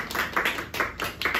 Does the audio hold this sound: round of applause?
yes